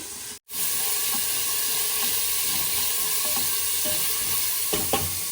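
Onion and green chillies frying in a pan: a loud, steady hiss of sizzling oil after a brief gap at the start, with a few faint stirring scrapes near the end, close and without talk.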